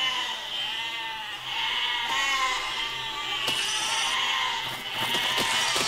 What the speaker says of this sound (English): Get your sheep.